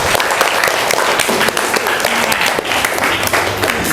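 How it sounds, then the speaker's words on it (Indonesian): Students clap for a classmate in a school classroom after he reads aloud, loud, close, choppy applause with individual claps standing out, sustained for the whole few seconds without speech. "Beri tepuk tangan untuk Fakih."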